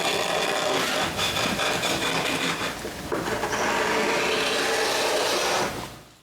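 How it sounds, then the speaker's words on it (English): Scrapers strip old finish from a large wooden door frame, a loud close rasping scrape that runs steadily for several seconds with rhythmic strokes before fading out. "I use different types of scrapers to remove most of the original finish."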